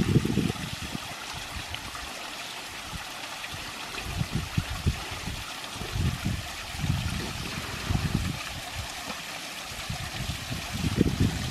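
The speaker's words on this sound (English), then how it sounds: "It's a little one, but it's still a waterfall." A small waterfall at Giant City State Park pours in a steady, broad rush, with low splashing pulses from the falling water running continuously underneath.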